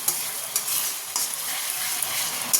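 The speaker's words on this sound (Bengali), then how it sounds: "রাতের তরকারি বসিয়ে দিয়েছি" Curry sizzles and fries in a pan while being stirred, a steady close hiss broken by brief scraping strokes, with no talk.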